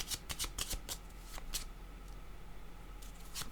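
Tarot cards shuffled and drawn, a handful of quick crisp flicks and slaps close by, fading to quieter handling with a couple of final snaps.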